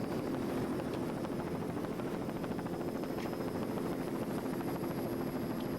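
A 1991 Activator Class 5 racing powerboat with a single 550 horsepower inboard engine drones at a steady, unbroken roar during a race on the Great South Bay at Patchogue, New York.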